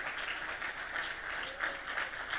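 A church congregation applauds during a service, a fairly soft, continuous patter of many hands clapping at a distance, with no voice over it.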